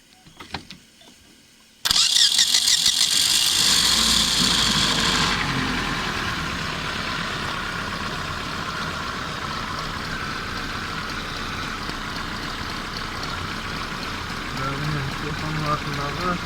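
A car engine with an antifreeze leak from a torn hose behind the pump cranks and fires up, roaring loud at first, then settling into a steady close idle, with people talking over it.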